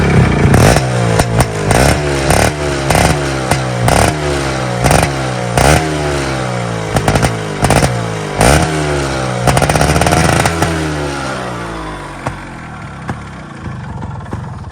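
Yamaha RX 135 two-stroke motorcycle engine started and running nearby, a loud, steady uneven putter with sharp rhythmic clatter and repeated revving swells throughout, easing slightly toward the end, no talking.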